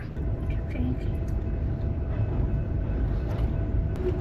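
Freight train rolling past a stopped vehicle at a crossing, a steady low rumble and clatter of railcars that stays close and even for the whole stretch, with no speech.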